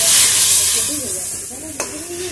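Grated coconut and jaggery stirred together in a pan, giving a loud steady hiss and sizzle with soft scraping and one brief clack of the spoon against the pan.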